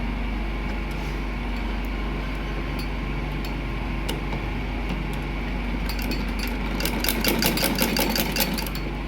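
A domestic sewing machine stitches a woman's garment neckline with a steady mechanical whir, running continuously at moderate loudness and picking up slightly faster, busier clatter near the end.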